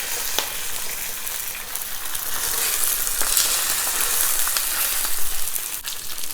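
Salmon fillets frying skin side down in olive oil give off a steady, loud, close sizzle with crackling spatter throughout and no voices.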